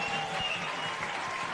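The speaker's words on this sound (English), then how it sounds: "the crowd here at Cromer Park explodes" Stadium crowd at Cromer Park cheering a Sydney FC women's goal in a premiership-deciding W-League match, a steady broad roar and clapping held at even loudness throughout.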